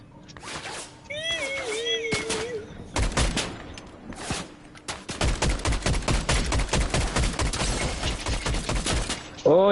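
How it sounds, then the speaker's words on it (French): Gunfire in the Fortnite video game: rapid, dense bursts of shots that grow almost continuous in the second half, mixed with brief tonal game effects early on. "y'a qui tire sur moi là?"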